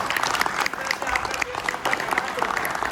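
A crowd at a retirement ceremony claps steadily and enthusiastically, a dense close applause lasting the whole moment with voices mixed in.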